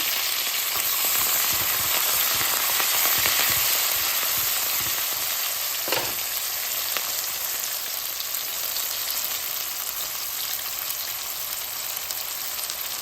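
Onions fry in oil with a constant, close crackling sizzle for the whole stretch, broken by a single utensil knock near the middle.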